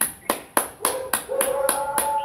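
Bare hands clap sharply and close in a steady rhythm, about eight claps roughly a quarter second apart, as part of a yoga health exercise; a voice hums faintly underneath toward the end.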